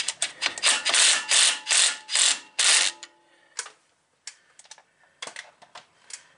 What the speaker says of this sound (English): Now I'm just going to run it down with an impact,